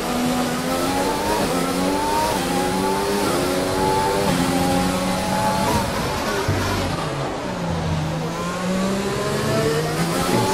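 F1 race car engines in the F1 2020 game, a pack of cars battling for podium places, scream continuously, high-pitched revs rising and falling as they shift through gears, loud and steady throughout.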